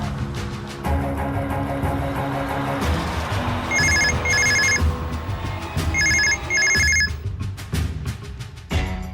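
A landline telephone rings in loud bursts, two double rings in quick succession and then another pair, over a busy background of music and room noise.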